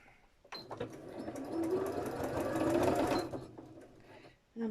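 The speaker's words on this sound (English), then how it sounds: "If you're looking at getting a sewing machine, always get the automatic threader." A sewing machine runs steadily for about three seconds while stitching a bird wall hanging, with a whirring mechanical hum that starts and stops abruptly; a brief voice is heard near the end.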